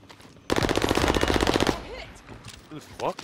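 A loud rapid burst of gunfire from an M1 rifle in Warzone Caldera, about a second of fast repeated shots, followed by quieter game sounds and brief voices.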